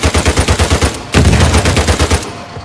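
Rapid automatic gunfire in the PS4 game Uncharted 4: A Thief's End rattles loudly in two close bursts of quick, evenly spaced shots with a short break between them.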